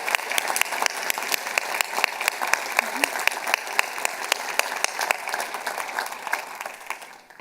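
Sustained applause from a conference keynote audience, dense steady clapping across the whole stretch with no talk over it, tapering slightly at the end.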